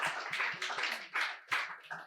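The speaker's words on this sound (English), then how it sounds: "give the speakers another round of applause" A small audience at a scholarly workshop claps for the speakers, a sparse run of about seven distinct hand claps at uneven intervals, fairly close and moderately faint.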